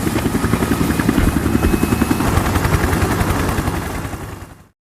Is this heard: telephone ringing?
no